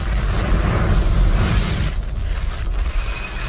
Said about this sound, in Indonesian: Harp meluncurkan misilnya ke arah titik konflik tepatnya di kendaraan musuh